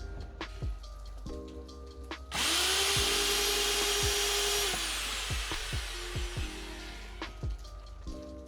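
A power drill whirs up and runs for about two seconds driving a screw, then winds down, amid scattered clicks and knocks.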